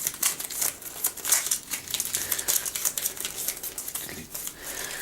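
Wizard cards for a board game being mixed and shuffled by hand on a table, close crisp rustling and rapid flicking of card stock in uneven bursts, with no talking over it.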